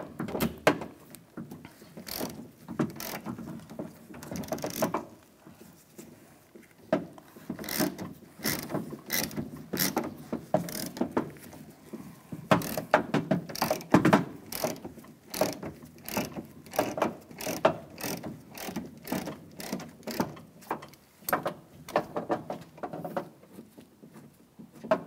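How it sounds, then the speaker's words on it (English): A ratchet with a 10 mm socket turns bolts out of the exterior door handle on a 2007-2013 Chevrolet Silverado, producing close, quiet rapid clicking in repeated bursts with short pauses. "Now using a 10 millimeter socket, we're gonna take these two bolts out."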